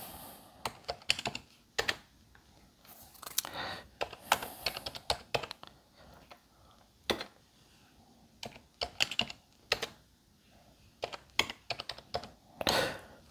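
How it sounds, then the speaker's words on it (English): Typing on a computer keyboard while programming a PIC16F18424 microcontroller, close and fairly quiet, irregular bursts of rapid key clicks separated by short pauses, with no voice. "let me just type out a little bit of stuff here"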